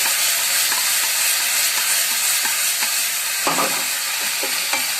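Vegetables tossed with soy sauce in a hot stir-fry pan give a steady, loud sizzle and hiss, broken by scraping stirs and clinks. Nobody speaks.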